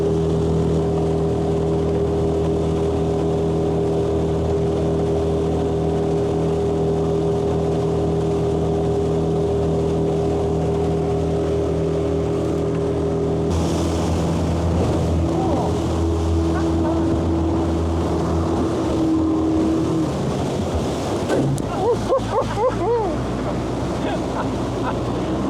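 A motorboat runs on a Northern Ontario lake with a loud, steady engine drone throughout, wind buffeting and water slapping the hull, and the engine pitch shifting near the end as it changes speed.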